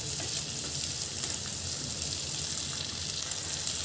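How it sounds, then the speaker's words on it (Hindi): Paneer chilli fries hard over high heat, a dense, steady sizzle with crackling spatter that runs close and continuous throughout, with no talk. "बस एक दो मिनट से तेज आँच पे भून लें"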